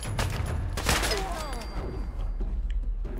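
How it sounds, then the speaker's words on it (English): Short combat rifle fired in Fallout 4, a few sharp close shots and a rapid burst with ringing tails over low combat rumble, followed by scattered softer impacts. "It's a short combat rifle."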